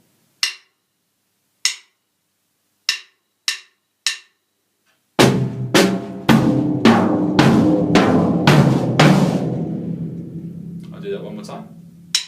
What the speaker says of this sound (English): So with the bass drum as well, it should sound like this.